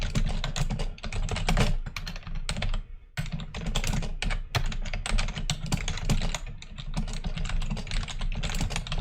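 Rapid, continuous typing on a computer keyboard, with crisp close clicks in an uneven rhythm and one brief pause partway through.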